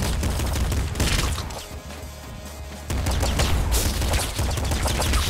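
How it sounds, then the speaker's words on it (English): Rapid assault rifle or machine gun fire in the video game Nuclear Throne, a dense loud burst of shots with a short lull in the middle before the firing resumes. "Is that just an assault rifle? Machine gun?"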